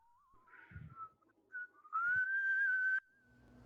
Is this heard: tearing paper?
no